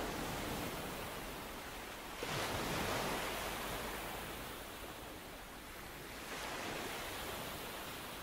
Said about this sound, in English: Listen to the timeless curl of the waves